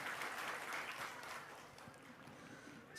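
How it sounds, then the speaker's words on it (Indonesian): Crowd applause at a land certificate handover ceremony for villagers in Sumberklampok, Bali, a steady wash of many hands clapping, somewhat distant and moderately quiet, lasting the whole time. "Tepuk tangan."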